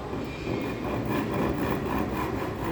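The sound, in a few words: hacksaw cutting plywood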